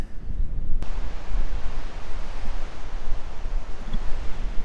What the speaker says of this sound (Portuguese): o vento tá forte, tá levantando uma pessoa